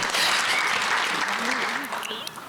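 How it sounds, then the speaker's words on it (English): Applause from an audience at a hall of fame recreation program, brief and fading as a voice begins speaking over it. "thank you for clapping"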